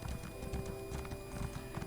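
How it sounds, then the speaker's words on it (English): A horse being led away in The Elder Scrolls Online clip-clops in quick, regular hoofbeats, faint and continuous over a brief stretch, with no voices. "She's just walking off with her horse."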